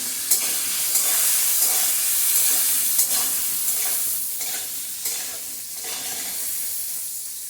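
Boiled potatoes with turmeric and salt fry and get stirred in a pan over raised gas heat, giving a steady, close, loud sizzle with occasional scraping knocks, no talk.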